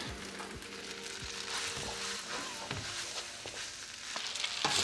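Noodles fry in hot oil in a pan for takeout-style fried noodles, with a steady close sizzle broken by scraping stirs and light clatter from a utensil.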